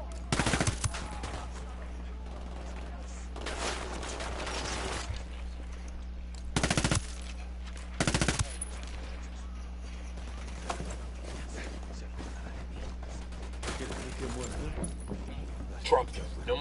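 Bursts of machine gun fire in a video game ring out several times over a steady low background hum, with short gaps between volleys.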